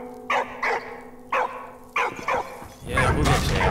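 Dog barks in the WWI trench-warfare video game Valiant Hearts, a series of short separate yips and woofs spaced out, followed by a louder burst of game noise at the end.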